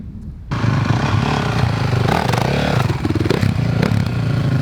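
A 190 mini motorcycle engine revs and clatters while the rider crosses a trial obstacle, a loud, continuous buzzing drone that kicks in abruptly after a brief quiet start, with scraping and knocks over it.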